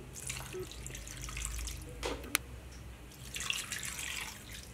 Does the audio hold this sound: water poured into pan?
yes